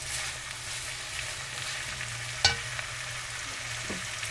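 Onions and beef cooking in a pot for beef curry, a steady low sizzle with a sharp clink of utensil against pot partway through and a softer stir later.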